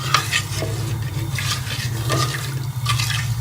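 Milk and cream are stirred in a pot with a spoon, giving a close, steady swishing and scraping in regular strokes over a low continuous hum, with no voices.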